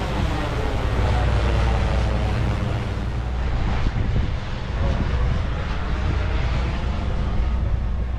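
A DJI M300 drone in flight, its steady whirring rotor drone heard close and loud throughout, heavily mixed with rushing wind buffeting the microphone.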